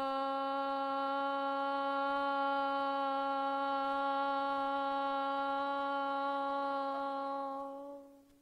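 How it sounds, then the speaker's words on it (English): A group in a yoga class sustains one long, steady Om chant together, a rich harmonic drone held evenly for about seven seconds before fading away at the end. "We'll begin our practice here with the sound of Om"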